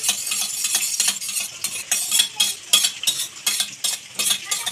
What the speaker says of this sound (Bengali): একটুখানি জল দিয়ে দেবো, দিয়ে ভালো করে মাখিয়ে নেব সসগুলো।